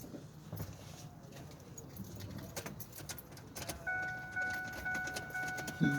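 Car keys jangle faintly into the ignition of a 2004 Ford F-150 with a 5.4L Triton engine, a quiet metallic rattle, followed by a steady tone from the truck.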